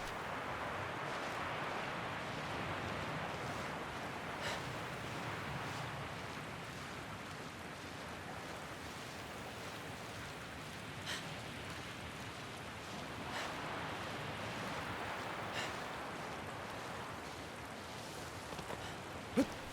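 Steady rain in the video game Shadow of the Colossus, a continuous broadband hiss that holds evenly for the full stretch, with a few faint ticks and a brief sharp knock near the end.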